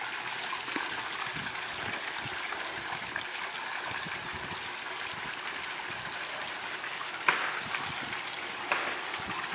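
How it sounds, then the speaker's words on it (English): A backyard creek runs down into a garden pond with a steady close rushing trickle, an even continuous flow with a few small splashes and no voices over it. "the water comes down the creek here."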